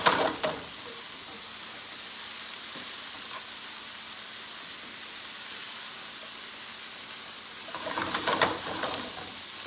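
Beet greens frying in a pan give a steady, fairly quiet broadband sizzle that holds evenly throughout, with a brief louder flurry of crackling and stirring near the end.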